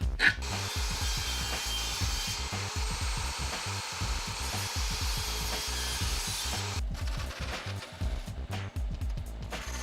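Quarter-inch plywood being sawn down to size for a Christmas ornament project, a loud rhythmic rasping of back-and-forth strokes that keeps up throughout, close by.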